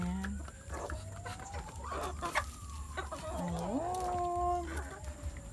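Backyard chickens, a rooster among them, cluck while being fed leftover rice in the morning; soft repeated clucks close by, a crow rising in the background, and faint voices underneath.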